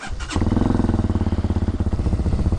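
A 2019 RPS Hawk DLX 250 fuel-injected motorcycle makes a cold start: a brief starter crank catches, and the engine settles into a close, steady, rhythmic idle.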